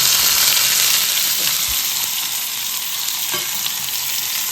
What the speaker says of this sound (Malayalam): ഇനി നമുക്ക് ഈ തക്കാളി ഇട്ട് കൊടുക്കാം കേട്ടോ.